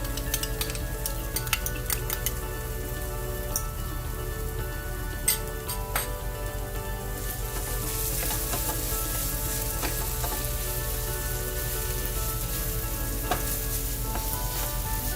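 Ground pork and barbecue sauce sizzle in a pan with tomatoes for Spanish-style Maiale Macinata tapas, a steady close frying hiss broken by occasional stirring scrapes and light clinks.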